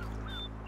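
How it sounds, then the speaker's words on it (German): Chickens on a farm in Farming Simulator 19 on PS5 give a short burst of squawking and clucking over steady low game ambience, with no voices. "die Hühner sind auch da"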